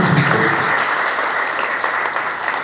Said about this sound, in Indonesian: Beri tepuk tangan yang terbaik buat Tuhan.